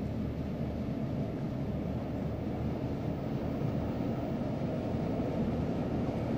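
A Class 421 electric train in Train Simulator 2018, leaving St Leonards Warrior Square toward Hastings at about 30 mph: a steady, low rumbling drone of motors and wheels on rail, continuous and even with no talk.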